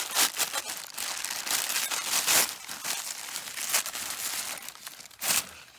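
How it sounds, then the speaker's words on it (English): A knife slices open a package holding a square US elevator button panel, giving steady crinkling, tearing plastic and cardboard with sharp ripping bursts, close and alone. "So what we're going to do is use this knife to cut that open."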